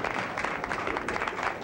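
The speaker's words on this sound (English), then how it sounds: "Let's have a nice round of applause for Mr. Tony Martin." An audience applauds a special guest at a show, a dense, steady wash of many hands clapping at close-to-moderate distance throughout, with no talking over it.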